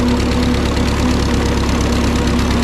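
Minneapolis Moline RTI tractor engine running at a steady idle, a constant close-up rumble with a droning hum and no change in speed.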